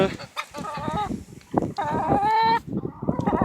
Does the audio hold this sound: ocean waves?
no